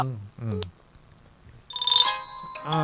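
Telephone ringing for an incoming call on a radio phone-in show, a short electronic warbling ring that cuts in between a man's spoken words.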